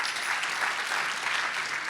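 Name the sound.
audience applause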